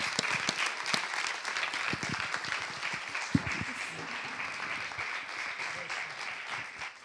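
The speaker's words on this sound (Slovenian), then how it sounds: "dajmo en aplavz." Audience applause at an evening screening of young women directors' films, a dense, steady wash of many hands clapping through the room, with a few scattered voices and a sharper clap standing out near the middle.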